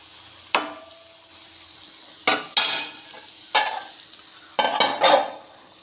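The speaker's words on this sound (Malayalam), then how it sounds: "നല്ലതുപോലെ ഇളക്കി യോജിപ്പിക്കണം" A homegrown ivy gourd stir-fry being stirred in a pan: about five or six sharp scraping bursts of spatula against metal, separated by pauses over a faint background sizzle.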